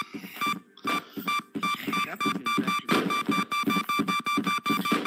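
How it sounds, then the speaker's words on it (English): Repeating electronic beeps from the chasing monster in the VR game Capuchin, steady evenly spaced tones running through busy clattering game and movement noise, no talking. "he kind of helps because the beeping noise, we can tell where he is"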